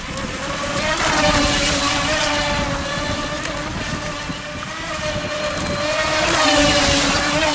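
A small UDI 005 Arrow RC speedboat engine whines steadily close by as it runs across water, with wind buffeting the microphone.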